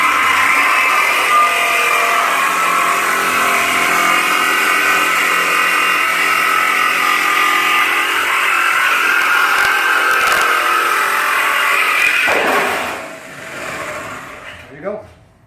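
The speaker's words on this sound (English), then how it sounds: "Make sure the lid don't bind too much into your blade." A power tool blade cuts around the lid of a steel oil drum, giving a steady loud grinding whine for about twelve seconds before it winds down and stops, with a brief clank at the end.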